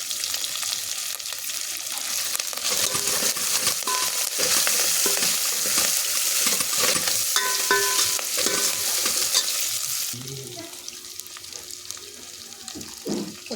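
Green chillies, curry leaves and fenugreek leaves frying in hot oil give a loud, dense crackling sizzle with stirring scrapes, easing to a quieter hiss near the end.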